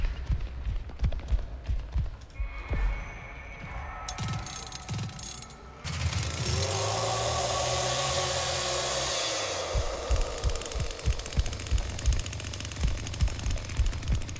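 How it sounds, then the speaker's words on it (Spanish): A chainsaw in The Texas Chain Saw Massacre video game sputters and jams, then roars into a loud sustained run before breaking into choppy mechanical rattling amid game noise. "Motosierra atascada."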